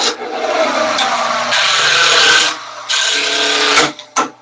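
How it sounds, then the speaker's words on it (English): A skew chisel on a wood lathe catches and digs into spinning wood while turning sticks: a steady rasping cut runs throughout, broken by sharp gaps and two abrupt knocks near the end. "if you go in and the top of the tool catches, or you just get a little too aggressive, it'll just dig in."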